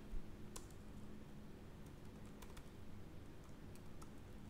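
Code being typed on a computer keyboard, a run of quiet, scattered key clicks over a low steady room hum, faint and close, with no voice.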